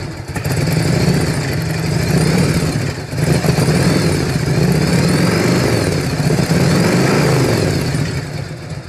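A Harley Davidson FL motorcycle engine runs loud and close with its engine mounts loose, held at raised revs in a steady throaty drone with slight rises and dips throughout.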